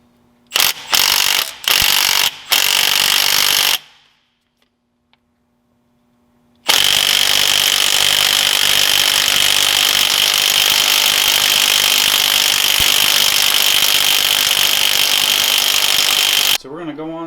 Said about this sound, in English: then we'll get the impact gun, and it will drive this pulley